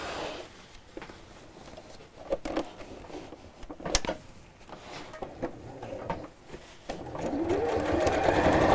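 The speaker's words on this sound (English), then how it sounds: "you may want to use the free arm on your sewing machine while you're doing this." A sewing machine runs in short bursts while stitching a messenger style bag, with pauses and handling clicks between runs and a longer, steadier stretch of stitching at the end, close and fairly loud.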